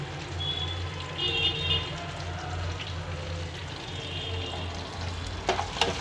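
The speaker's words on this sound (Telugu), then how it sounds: "బాయిల్ అవుతున్నాయి." Raw banana pieces bubble in a pan of water on the stove, giving a steady low simmering hiss and gurgle with faint clinks near the end.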